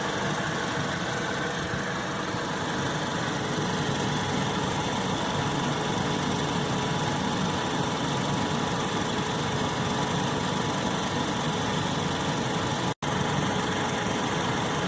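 A 2005-2015 Toyota Tacoma engine idles steadily at operating temperature with the coolant reservoir cap off, a continuous close mechanical hum and rumble holding even throughout, broken only by one brief dropout near the end.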